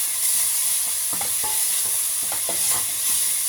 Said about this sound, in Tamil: 3 ஆனியன், பெரிய வெங்காயம், இதை போட்டு லைட்டாக ஒரு வதக்க.